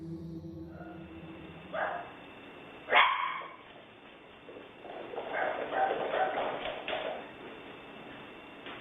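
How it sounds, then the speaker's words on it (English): Two dogs run and bark: one barks sharply once, then yips and barks come in bursts among scuffling movement, fairly close and at moderate loudness. "You can see and hear the 2 dogs running and barking"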